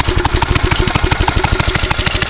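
A go-kart engine, just started with the choke on, runs loud and close in a steady, rapid idle with an even pulsing beat.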